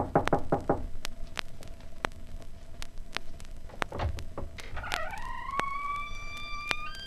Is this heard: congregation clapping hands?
no